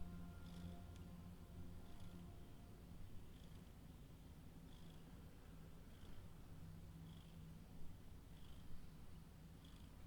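A contented house cat purrs continuously up close, a low steady rumble with soft rhythmic breaths, faint but unbroken throughout.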